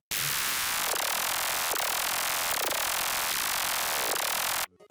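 Dubstep synth pattern from FL Studio's 3xOsc with automated pitch: a harsh, noisy continuous tone with repeating sweeping pitch movements, loud and steady for nearly five seconds before stopping abruptly, no voices.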